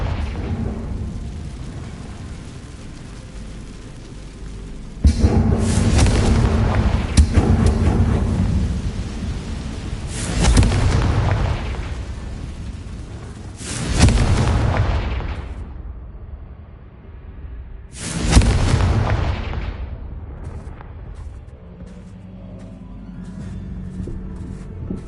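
Confringo spell blasts in the Hogwarts Legacy video game, several deep booming explosions spaced seconds apart, each with a rumbling roar that slowly fades, loud and alone without talk.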